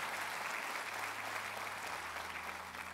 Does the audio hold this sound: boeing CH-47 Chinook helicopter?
no